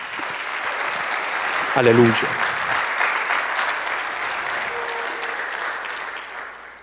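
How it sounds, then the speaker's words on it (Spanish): A church congregation gives a loud, sustained round of applause for the Lord during an evangelical service, the dense clapping swelling briefly and then holding steady, with a voice calling out over it. "Den un fuerte aplauso al Señor"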